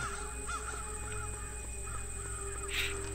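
Birds cawing in a video game: a run of repeated crow caws, moderately loud, over a steady droning background tone, with no talking.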